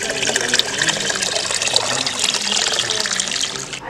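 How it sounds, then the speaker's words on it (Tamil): Water runs steadily from a tap into a vessel of a hibiscus distillation setup, a continuous close hiss and splash of filling that carries on throughout without pause. "ஸோ இதுலேயும் நம்ம தண்ணி ஃபில் பண்ணிக்கணும்."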